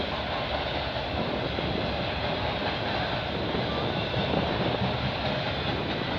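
A CN/CP freight train carrying auto racks loaded with Ford cars rolls past in Milton, Ontario, a steady, loud broadband rumble of wheels and rail noise holding constant throughout with no voices.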